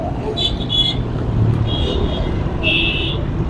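A vehicle horn called a Jogi horn, sold from a rickshaw by a horn seller, sounds in a few loud high-pitched blasts over steady traffic rumble, with someone talking throughout.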